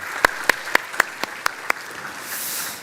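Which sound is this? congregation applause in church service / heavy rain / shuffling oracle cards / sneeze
congregation applause in church service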